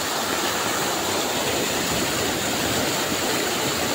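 Rainwater from a heavy overnight downpour rushes steadily over a culvert, a loud, even hiss of flowing water that stays constant and unbroken with no voices.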